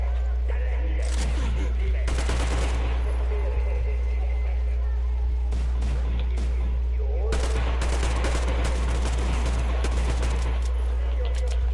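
An AK rifle in Metro Exodus fires in long sustained automatic bursts, loud and close, with breaks between volleys as it overheats; a voice talks between the bursts.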